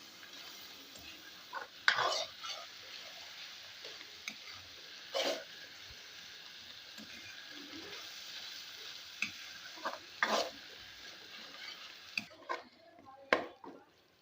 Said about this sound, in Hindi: अब मैं इसमें सारे मसाले शामिल कर लूँगी। मैं भून लूँगी।